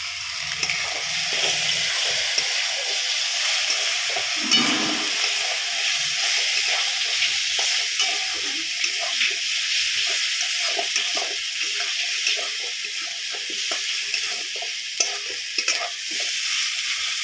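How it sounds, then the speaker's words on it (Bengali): Garlic and ginger frying in a pan with tomato masala in a Bengali home kitchen, a steady loud hissing sizzle with bursts of steam and intermittent stirring scrapes throughout, no talk. "এবার আমি এখন দেব রসুন আর আদাটা দেব"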